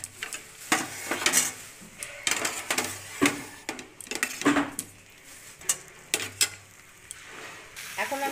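Fried potatoes go into a pan of spiced onion-tomato masala for a Bengali shankar fish curry and are stirred, giving repeated scraping and clinking of a utensil against the pan with a light sizzle underneath, in irregular bursts.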